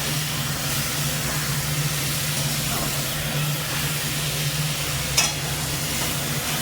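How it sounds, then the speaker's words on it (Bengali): Ground spice paste with turmeric and a little salt frying in a pan for a thin catfish curry: a steady, moderate sizzle over a low hum, with one brief clink near the end. "মশলাটা দিয়ে দেবো, দিয়ে একটু কষিয়ে নেবো ভালো করে।"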